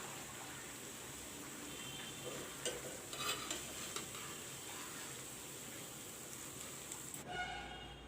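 Cabbage pakoras are lifted out of hot frying oil. A steady hissing sizzle fills the air, with a few scraping clinks of the utensil, and it drops to a quieter, thinner crackle near the end.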